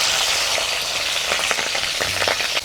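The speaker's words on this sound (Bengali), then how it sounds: "প্রথমে শাকটা আমি রান্না করব, সেই জন্য মাছের তেলটাকে ভেজে নেব" Katla fish fat frying in a wok of hot mustard oil seasoned with panch phoron and dried red chillies, a steady loud crackling sizzle with scattered pops and a few spatula scrapes.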